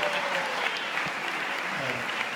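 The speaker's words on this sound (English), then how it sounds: "clap those hands and give God praise" A congregation claps steadily in praise at a gospel performance, a dense, even wash of many hands filling the room with a few murmured voices underneath.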